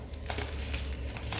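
A plastic bag of vermicelli noodles crinkles close up in a kitchen, brief crackling rustles in quick bursts with no speech over it.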